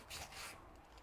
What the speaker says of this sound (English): Really sand those corners off.